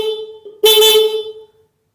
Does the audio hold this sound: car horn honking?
yes